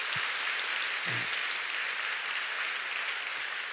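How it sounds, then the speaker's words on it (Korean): A church congregation applauds its choir with a sustained, even wash of clapping from the crowd while someone speaks over it. "우리 성가대 한번 박수 한번 해주시겠습니까?"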